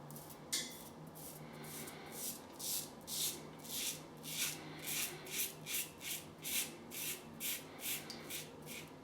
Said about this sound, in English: let's get the shave on with the Gillette Tech with the feather blade